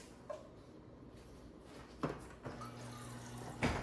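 Quiet water trickles from a refrigerator dispenser into a container, with a couple of faint clicks and a low motor hum.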